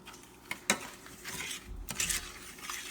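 Evaporated milk for pralines being stirred in a pot over medium heat, a quiet scraping and swishing with a few light clinks of spoon against the pot, faint and close.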